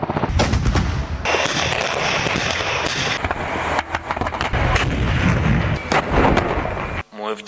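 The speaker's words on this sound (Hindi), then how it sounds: "तरफ रूस की आर्टिलरी के भयानक हमले यूक्रेन की रक्षा पंक्तियों की धज्जियां उड़ा रहे हैं" Russian artillery pounds Ukrainian defensive lines in a loud, dense barrage of booms and rapid gunfire-like bursts, with a voice partly heard over it before a sudden cutoff near the end.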